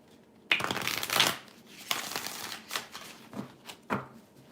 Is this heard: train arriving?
no